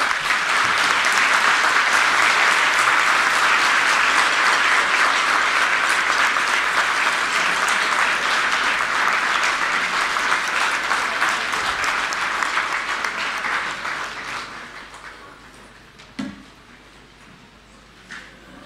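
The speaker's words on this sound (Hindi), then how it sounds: "एक बार खड़े होके पूर्व शिक्षा मंत्री मनीष सिसोदिया जी के लिए और मुख्यमंत्री साहब के लिए एक बार जोरदार ताली बजाएं" A crowd at a new Delhi government school event gives standing applause for the former education minister and the chief minister, a loud, dense clapping sustained for about thirteen seconds before tapering off to a few scattered claps.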